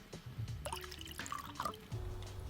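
Poppin Cookin hamburger bun candy powder pours into a small mold outdoors, producing a soft, faint trickling hiss with light tapping over a breezy background.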